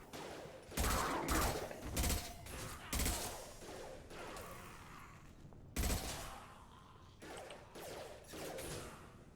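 Gunfire in the video game Mass Effect 2, loud bursts of automatic weapon fire in several clustered volleys with mechanical clatter and whooshes between them.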